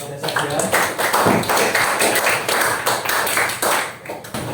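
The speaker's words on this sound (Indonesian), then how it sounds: "berikan tepuk tangan kepada saya" A classroom audience claps, with rapid overlapping hand claps that rise and fall over several seconds, mixed with voices.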